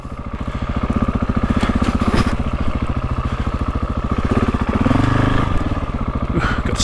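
A GasGas dirt bike engine runs steadily after the clutch is let out, a loud, close, rapid throbbing putter with a slight rise in revs near the end, heard alone without talk.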